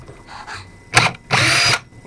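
Two short bursts from a cordless driver drill removing carburetor bowl screws: a quick brief whir, then a longer buzzing run lasting about half a second, close and fairly loud.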